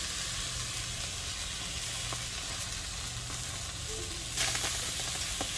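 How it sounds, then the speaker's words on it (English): Garlic herb tomato halves laid skin side down in a preheated hot pan give off a steady, close sizzle and frying hiss, with a few faint clinks and a brief louder burst near the end. "I'm going to put these in skin side down in this preheated hot pan"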